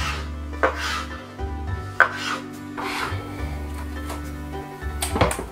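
A knife slicing tomatoes in half on a cutting board, a few separate close thuds and scraping cuts spaced over several seconds above a steady low hum.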